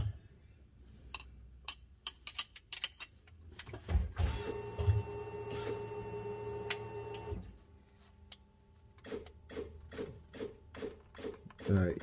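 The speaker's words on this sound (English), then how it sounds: "you can hear that relay working to push that fluid" On a Nissan with the Attesa system, the relay and pump whir steadily for a few seconds while pushing brake fluid during bleeding, framed by scattered mechanical clicks and taps from the work nearby.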